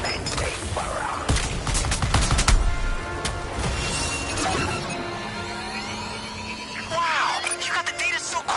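A gunfire barrage in the Suicide Squad video game, with dense bursts of shots, crashes and mechanical clatter in the opening seconds that fade into quieter whooshing effects, alongside brief game dialogue.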